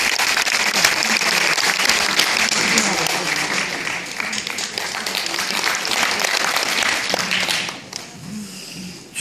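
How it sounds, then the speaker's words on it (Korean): Warm applause from a crowd at a community event in Yongin as a lawmaker is welcomed to the stage, dense loud clapping sustained for several seconds before cutting down near the end, with a voice briefly over it. "큰 박수 부탁드립니다."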